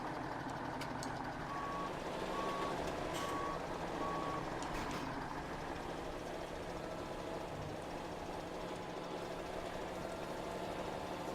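Reversing truck in Farming Simulator 17, its steady repeating backup beeps sounding over a low engine idle for several seconds before fading out, with a constant background drone and no talk.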